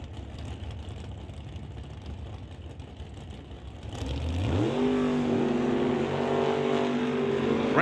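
At a drag strip, a Plymouth and a Chevrolet launch after a low idling rumble, their engines rising together into a loud, climbing roar with gear changes as the cars pull away.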